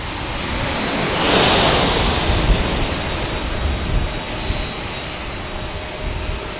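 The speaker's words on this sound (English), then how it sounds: "we have Southwest Airlines landing to speak" A Southwest Airlines airliner comes in to land at San Diego airport, its broad engine roar swelling loudly near the start and then holding as a steady, rushing drone with no talk.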